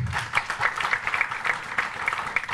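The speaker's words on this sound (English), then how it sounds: "Big round of applause for that" Steady audience applause at a book launch for an architecture book, a dense wash of many hands clapping that holds evenly for a few seconds at moderate loudness without any talk.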